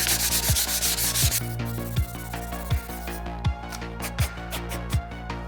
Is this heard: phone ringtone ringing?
no